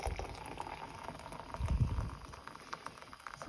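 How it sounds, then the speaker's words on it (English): Hot water poured from a kettle into a mug holding a spoon of coffee and hazelnut syrup, a soft steady trickling and bubbling pour that swells briefly in the middle, close and fairly quiet. "And then I put the hot water in."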